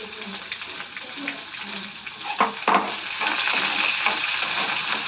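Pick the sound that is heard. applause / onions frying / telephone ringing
onions frying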